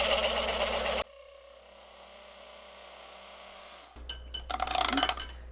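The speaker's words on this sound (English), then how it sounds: "we'll put 2 detail lines using a point tool to kind of delineate those" A point tool cuts detail lines into spinning figured English walnut on a lathe, giving a brief loud scraping burst, a quieter steady whir from the turning piece, then another harsh scraping pass.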